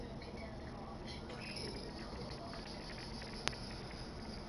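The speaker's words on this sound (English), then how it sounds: "Hear the hail?" Hail falling during a storm makes a steady, faint, dense patter throughout, with one sharp isolated click partway through.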